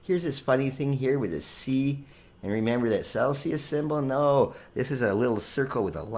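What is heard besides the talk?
No everyday noise stands out behind the speech.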